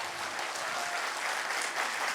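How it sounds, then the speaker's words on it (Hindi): An audience at a live poetry event claps together in a steady, dense burst of applause that holds throughout, with no speech over it. "एक बार आप लोग ताली बजाइए,"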